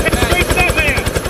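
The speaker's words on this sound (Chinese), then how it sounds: "直升机破例停在460公尺高的狭窄山顶" A rescue helicopter sets down on a narrow 460-meter mountaintop during a winter snowstorm, its rotor thumping loud and close in a rapid steady beat with a whining turbine above, under a news narrator's voice.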